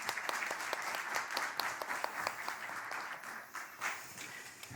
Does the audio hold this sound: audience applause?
yes